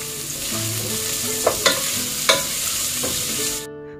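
Finely chopped onion and crushed garlic frying in a pan, with a close, steady sizzle and several sharp scraping stirs before the sound cuts off abruptly near the end.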